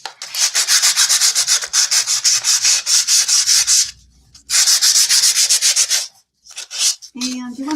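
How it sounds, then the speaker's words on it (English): A sanding pad scrubs across acrylic paint on a wooden door hanger in long, loud, close rasping bursts with brief pauses between strokes, and no talk. "Oh, I'm tearing up my sanding pad."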